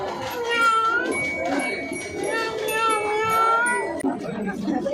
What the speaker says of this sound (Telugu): పులి కాదు, అది పిల్లి.